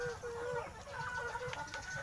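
Black Hulohano native chickens cluck softly and repeatedly close by, a steady murmur of short calls over faint farmyard background.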